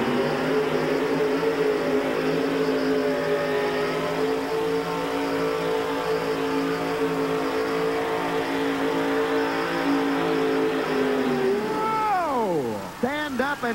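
A drag racing car launches down a straight track with its front end lifted, a loud sustained engine roar with steady harmonic tone that drops and warbles sharply at the end, while a commentator talks over it.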